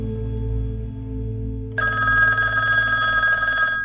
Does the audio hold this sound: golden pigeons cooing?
no